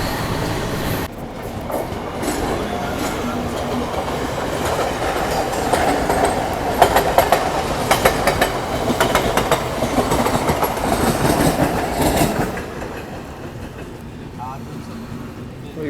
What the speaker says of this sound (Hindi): लेकिन अपनी ट्रेन मेन लाइन पर ही है।